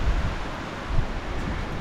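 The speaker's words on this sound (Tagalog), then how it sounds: "pero biglang lumakas ang hangin." Loud, steady rush of strong gusting wind in Canada buffeting the microphone, with low rumbling gusts throughout and no voices.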